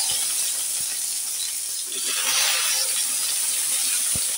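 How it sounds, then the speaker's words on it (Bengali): Cut okra sizzles steadily in a hot pan, a continuous close frying hiss with a brief dip and a few soft stirring knocks, no voices. "তাই আমি ভেন্ডিটা দেখো এভাবে কেটে নিয়ে আমি ভেন্ডিটা একটু ভেজে নিচ্ছি।"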